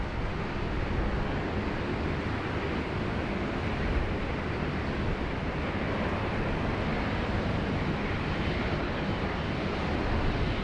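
Heavy rain and strong wind at Sydney Airport, a steady dense roar of rainfall and gusting air that holds unbroken and loud throughout, with no voices.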